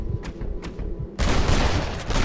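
Gunfire in the Red Dead Redemption video game: faint distant pops at first, then a sudden loud blast followed by sustained noisy rumble of continued shooting, no talking.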